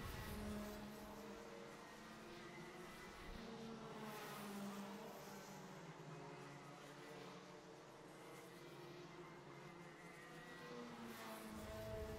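Junior Rotax karts racing at Clay Pigeon Kart Club during a championship round, a steady, fairly distant drone of small two-stroke engines with buzzing tones shifting as karts pass, faint throughout with no nearby talk.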